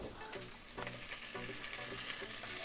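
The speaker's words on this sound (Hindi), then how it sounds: "अब हम इसे अच्छे से चलाएंगे।" Black pepper chicken with capsicum frying in a pan on a low-medium stove, a continuous close sizzle with scraping and clinking of a spoon being stirred through it.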